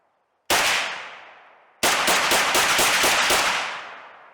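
An EDM Arms Windrunner .408 CheyTac rifle fires one booming shot that rings out, then a second blast runs into a rapid rattling string of shots as it is bump fired, loud and close with a long echoing decay.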